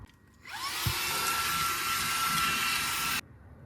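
A household vacuum cleaner switches on and runs with a loud, steady, high-pitched whine for about three seconds, then cuts off sharply. A brief thump comes just after start-up. No one speaks.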